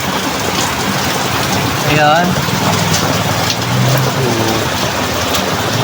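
Steady rain falling on a street, a constant hiss with passing vehicle noise underneath, while a person talks over it.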